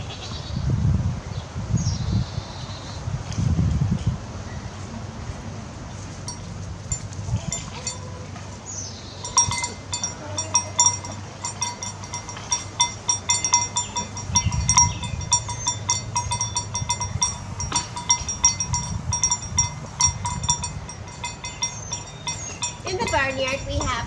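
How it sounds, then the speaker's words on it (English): Two goats bleat repeatedly in a small farm barnyard with chickens, close, irregular calls over low rustling and metallic clinks, a person talking briefly at the start. "In the barnyard we have 2 goats and 7 chickens."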